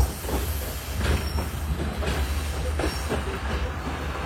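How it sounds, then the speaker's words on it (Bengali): A Joydebpur commuter train rolls into Dhaka Airport railway station, its steady low rumble carrying clattering wheel knocks and faint squeals throughout, heard from on board with no one talking. "আমাদের ট্রেনটি এখন ঢাকা বিমানবন্দর রেলওয়ে স্টেশন প্রবেশ করছে"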